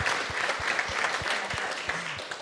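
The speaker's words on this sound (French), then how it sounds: "on va vous applaudir" Audience applause at the close of a round-table session, a dense steady wash of clapping from a room full of people, with faint voices mixed underneath.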